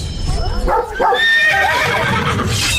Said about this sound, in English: A startled horse crashed into the carriage.